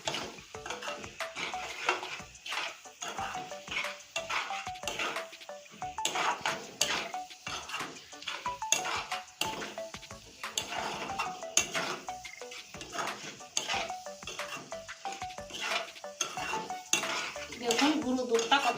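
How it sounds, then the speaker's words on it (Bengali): A milk mixture made with powdered milk being stirred in a pot for gokul pitha syrup, a spoon clinking and scraping against the metal in a busy irregular rhythm, close and fairly quiet. "আমি সুন্দর করে নাড়তে থাকবো"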